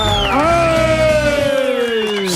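Studio audience at a Brazilian talk show on the economy, cheering and whooping loudly over a sustained wash of crowd noise, with a rising shout and a musical sting blending in across the short burst.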